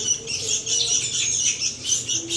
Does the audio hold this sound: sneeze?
no